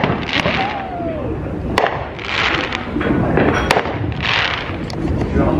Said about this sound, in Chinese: 在家后面看烟火，这应该是人家家里自己放的